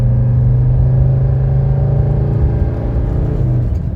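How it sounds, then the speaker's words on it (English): A 1985 Mercedes 300D diesel engine pulls steadily accelerating uphill, a loud sustained low drone with a slight rise in pitch. "Accelerate uphill. Oh yeah, plenty of power."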